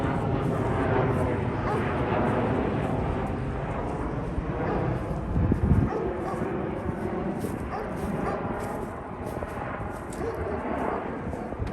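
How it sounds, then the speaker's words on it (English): A low, steady airplane roar fills the background throughout on a farm with horses, goats and dogs, with a dog barking and a person talking over it. "Sorry for the plane noise."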